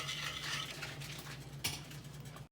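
A spoon stirs bottle gourd and chana curry in a pan, a soft steady scraping with a light simmer beneath and one sharper clink partway through.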